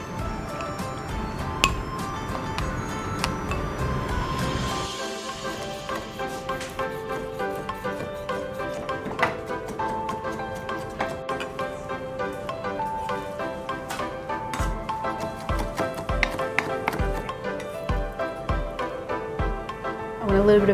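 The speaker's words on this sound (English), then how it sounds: "I've got some prawns here. I just want to mince these up very fine." Prawns minced finely with a knife on a chopping board, a steady run of quick, light clinks and taps up close over soft background music or kitchen noise.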